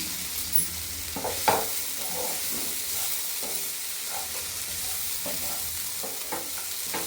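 Bitter gourd sizzles quietly in a pan on medium heat while a utensil scrapes and stirs it in occasional soft strokes, with no talking.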